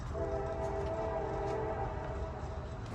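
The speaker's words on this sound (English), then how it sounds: "this is the local train L78021, the northbound of the A-line of Plant City that comes on weekdays in the mornings" Local freight L78021, led by a GP38-3 locomotive, passes northbound on a Plant City line while its horn sounds a long sustained chord over the rolling rumble of the cars.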